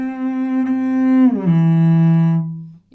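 A single cello note sustains, then slides audibly downward in an exaggerated portamento shift and settles on a lower pitch, played alone, close and fairly loud.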